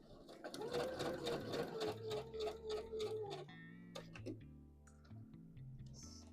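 A sewing machine stitches a dress with rapid, even mechanical ticking and a whirring hum, close and fairly quiet, fading to sparse clicks and tones toward the end.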